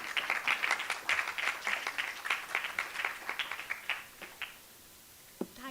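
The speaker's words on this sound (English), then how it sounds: "Please give a big round of applause." Audience applause at a school gathering in a hall, a dense patter of many hands clapping for several seconds before thinning out and fading, with a last isolated clap near the end.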